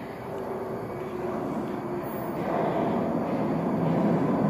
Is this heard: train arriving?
yes